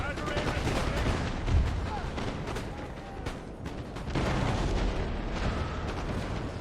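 Musket volleys from infantry lines in the Napoleon: Total War battle game boom and crackle continuously, with heavy rolling reports and distant artillery-like thuds filling the scene and a commentator speaking over the din.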